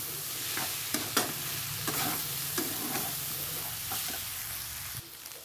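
Paste and green chillies are stirred in a sizzling frying pan: a steady hiss of frying punctuated by regular scrapes and taps of the spatula, close and fairly loud, with no talk.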